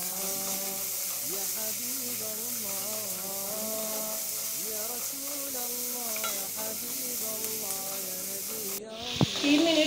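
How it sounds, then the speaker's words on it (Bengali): Chopped carrots and peas fried with salt in a hot pan, a continuous loud sizzle and hiss with a clatter of stirring near the end. "এখানে আমি গাজর কুচি দিয়ে দিচ্ছি, মটরশুঁটি দিয়ে দিচ্ছি, স্বাদ মতো লবণ দিয়ে দিচ্ছি। এভাবে আমি 3 মিনিট রান্না করব।"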